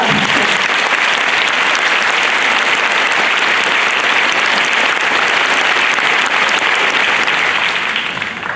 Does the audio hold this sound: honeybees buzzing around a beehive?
no